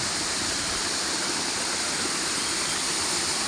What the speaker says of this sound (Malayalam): ഇതാണ് മഴവിൽ വെള്ളച്ചാട്ടം